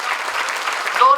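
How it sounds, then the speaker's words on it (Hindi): A brief burst of audience clapping at a Hindi poetry gathering, fairly loud and close, heard briefly under a voice that rises near the end. "जोरदार तालियां"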